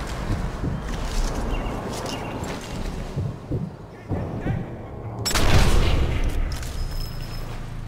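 Rifle gunfire in the World War II shooter Sniper Elite 4, with a loud burst of shots and echoing booms near the end amid busy game ambience and scattered impacts.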